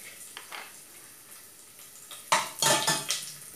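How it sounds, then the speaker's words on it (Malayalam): Cashews and raisins in hot ghee, stirred in a pan for vermicelli payasam, with a faint sizzle under light scraping, then a cluster of louder metallic spoon clinks and scrapes against the vessel near the end. "ഇതിലോട്ട് കുറച്ച് അണ്ടിപ്പരിപ്പ് ഇട്ട് കൊടുക്കാം. ഇതൊന്ന് മൂത്ത് വരുമ്പോൾ മുന്തിരിയും ചേർത്ത് കൊടുക്കണം."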